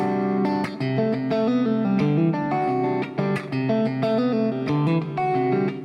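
Percussive fingerstyle guitar chord hits on all four strings, struck in a steady, busy rhythm, full and loud, with the notes ringing together with no pauses.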